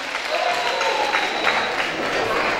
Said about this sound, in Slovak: Tak, to je ono, ešte väčší potlesk dajme.